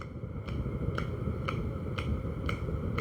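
A teacher claps steadily about twice a second during a children's ministry workshop class, the crisp claps sitting over a constant low background rumble.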